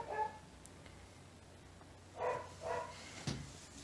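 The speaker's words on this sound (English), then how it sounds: "She's barking at us." A dog barking from downstairs in a home, distant and faint, giving a short bark at the start and then a quick cluster of three or four barks later on.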